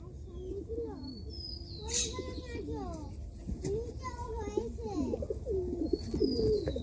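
Pigeons feeding coo in soft, repeated throaty warbles close by, while children chatter and a person talks over the birds.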